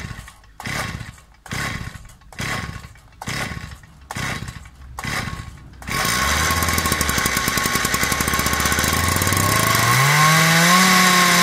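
A Stihl 034 AV chainsaw, just repaired and carburetor-tuned, is pulled over six times in a steady rhythm, then fires and runs loudly, its two-stroke engine revving up as the throttle opens.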